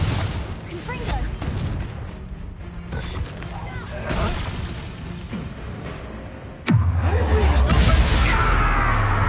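Hogwarts Legacy Confringo blasting spell, a sudden booming explosion bursting in after a stretch of game sounds and speech, followed by a sustained loud rumbling tail.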